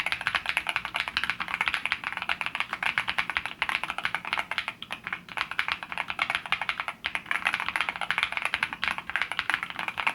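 Rapid typing on a HATOR Rockfall 3 Mecha gasket-mount mechanical keyboard, a continuous stream of close, crisp key clicks with brief pauses.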